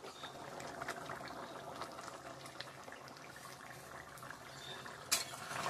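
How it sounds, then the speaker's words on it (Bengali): Chicken curry with potatoes bubbles steadily in a pot, a soft continuous simmer with faint liquid gurgles and an occasional clink near the end, close and fairly quiet with no talking. "ভালো করে ফুটিয়ে নিব। আলুটা সিদ্ধ হয়ে যাবে"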